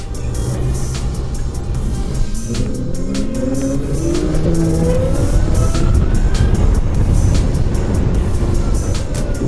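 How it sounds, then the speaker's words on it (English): A 2020 Zero SR/F electric motorcycle accelerates hard with a rising electric whine climbing in pitch, steady and loud over rushing road and wind noise. "Now listen to this thing as we take off."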